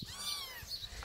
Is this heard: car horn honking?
no